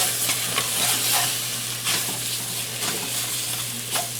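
Floured stew meat browns in a pan with a steady, crackling sizzle, punctuated by repeated scraping stirs of a utensil, close and continuous.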